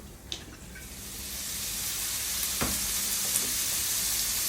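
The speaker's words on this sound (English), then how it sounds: "So again, nice hot pan, potatoes in, oil," Potatoes dropped into a hot oiled pan, the sizzle swelling into a steady, close frying hiss with a few light clinks, no voices.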